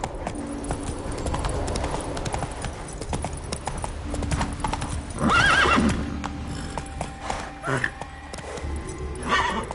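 Roach, a horse in The Witcher 3, gallops with quick rhythmic hoofbeats, and a loud whinny rises midway and again near the end, under a voice talking.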